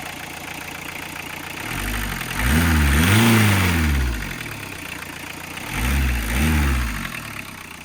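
Diesel Tofaş car fitted with an Audi engine, running loudly under the open hood, heard up close as a steady rumbling idle with two surging revs that rise and fall.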